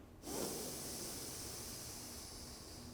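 A single slow, deep breath drawn in through the nose, a soft, close airy hiss that starts abruptly and holds steadily for a few seconds, gradually easing off.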